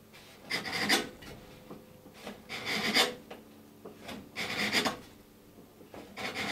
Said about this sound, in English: use a chisel as a scraper, because we're sort of half on end grain there, we can scrape away,